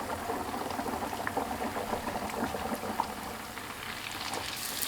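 Youtiao dough sizzles and bubbles steadily in a wok of hot oil at about 170–180 degrees, a dense, continuous frying hiss with no talk over it.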